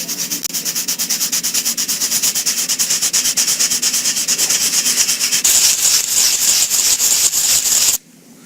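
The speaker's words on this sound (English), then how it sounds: "I'm going to use 80 grit sandpaper and a sandpaper block and remove the paint" An 80-grit sandpaper block rubs paint off a damaged Hartzell Kevlar composite propeller, making loud, steady rhythmic scraping strokes back and forth at close range that stop abruptly near the end, with no talking.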